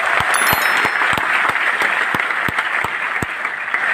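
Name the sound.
applause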